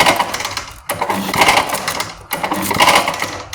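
A loud, rattling mechanical drone from a Redmax leaf blower, its loose fan buzzing and vibrating harshly, with two brief dips in the noise.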